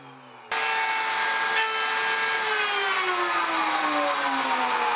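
A table saw starts up and rips loudly through wood as a crosscut sled pushes the board, a steady close whine that holds for several seconds with a slowly falling pitch as the blade loads.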